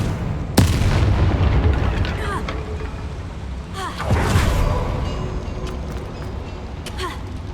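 Confringo fire-blast spell in the game Hogwarts Legacy: two loud, booming impacts land several seconds apart, each trailing off into rumbling debris, with a voice speaking around them.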